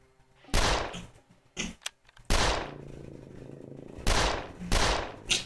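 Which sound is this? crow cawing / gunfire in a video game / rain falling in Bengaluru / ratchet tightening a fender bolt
gunfire in a video game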